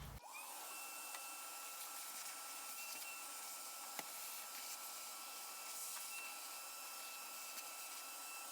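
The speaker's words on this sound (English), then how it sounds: "I'm going to vacuum up all this excess rust so it doesn't fall down inside the tank" A vacuum cleaner sucks up loose rust around the fuel tank area of a Chevy S10, a loud steady whine and rush that runs unbroken throughout, with a faint knock partway through.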